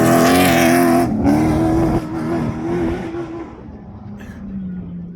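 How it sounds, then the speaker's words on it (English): A desert race trophy truck at the Finke Desert Race roars past nearby, its loud engine note sliding down in pitch as it moves away and fades into the distance. "another trophy truck"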